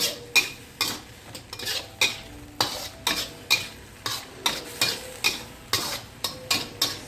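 King oyster mushrooms with chili, turmeric and lemongrass are stir-fried in a pan, a utensil scraping and tapping in a steady rhythm of roughly two strokes a second over a soft sizzle, close up with no talking.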